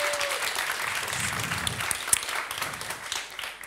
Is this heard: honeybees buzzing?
no